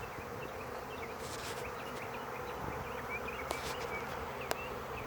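A swarm of honey bees flying through the air outdoors before settling on a tree limb, a dense continuous buzzing drone of many insects, steady and moderately loud with occasional faint clicks.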